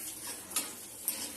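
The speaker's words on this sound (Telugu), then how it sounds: "ఇప్పుడైతే కాజు కిస్మిస్ వేసేద్దాం వేయించి." Cashews and raisins frying in a pan for sweet pongal, a steady soft sizzle with a couple of sharp clinks of a stirring spoon against the pan, close and fairly quiet.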